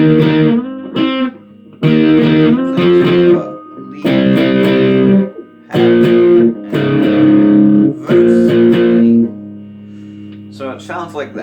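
Distorted electric guitar plays a melody in one-finger power chords, loud sustained chord blocks in a rhythmic sequence with short gaps, then brief lighter picking at the end.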